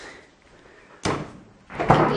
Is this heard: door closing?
yes